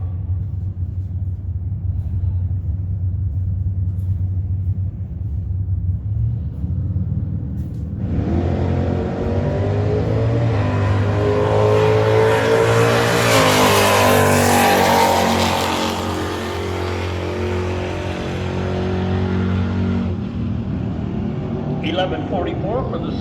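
A Challenger and a Camaro at a drag race: a low idle rumble, then a loud roaring launch that builds and fades over several seconds, with an announcer's voice throughout.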